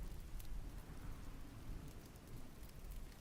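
Rain falls steadily as a soft, continuous hiss, and a low rumble of distant thunder runs underneath. The whole scene is quiet, with no voices.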